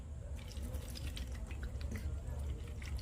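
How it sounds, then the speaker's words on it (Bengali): Water trickles and drips onto tamarind in a bowl, a steady close pour with light splashing throughout, no voices. "এবার এতে দিয়ে দেবো জল"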